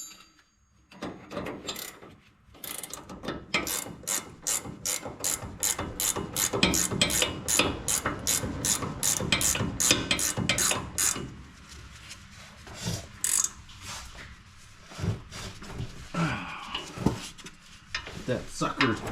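A ratchet wrench tightens the lower sway bar link bolt on a Ford F150, a long run of rapid, close clicking strokes followed by slower, irregular ratchet clicks and a brief voice.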